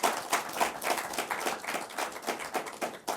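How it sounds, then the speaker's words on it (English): A small audience at a university law debate contest claps steadily for a few seconds, quick uneven hand claps with no voices over them. "a round of applause again to our contestants."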